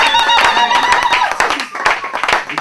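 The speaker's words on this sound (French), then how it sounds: "On acclame Jésus pour sa vie." A church congregation claps in quick, uneven bursts, close and fairly loud, mixed with voices and bright tonal sounds.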